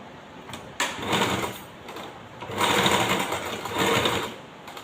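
A sewing machine stitches around a sleeve armhole in short close bursts of rapid needle chatter, pausing briefly between runs, with a longer steady run in the middle.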